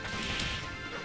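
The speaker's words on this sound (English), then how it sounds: "It's a triple headbutt." Dinosaur triple headbutt impact in the Dinosaur King arcade game, a loud, dense crashing smash that fills the whole moment without any voices.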